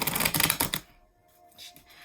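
Quick riffling of tarot cards, a dense flurry of crisp card flaps lasting under a second, followed by quiet and a few faint soft taps.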